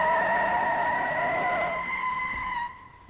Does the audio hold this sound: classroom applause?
no